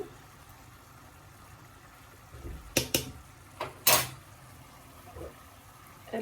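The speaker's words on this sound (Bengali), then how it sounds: "এই যে ঢাকনা দিয়ে দিলাম" A metal lid set onto a biryani cooking pot, a few close clanks and rattles in the middle over a quiet kitchen background; no talking.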